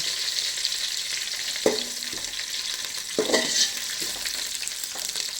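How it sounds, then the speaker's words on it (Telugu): Whole spices, green chilies and curry leaves frying in hot oil for chicken biryani, giving a steady close hiss of sizzling with a couple of stirring scrapes, and no talk over it. "కొంచెం బాగా ఫ్రై అవ్వాలి"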